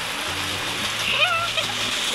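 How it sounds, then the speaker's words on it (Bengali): A motor pumps water into a duck pond fountain, making a steady splashing rush of falling water, with a faint voice in the background. "এখন এই ফাউন্টেনের মধ্যে পানি ভর্তি হয়ে যাবে"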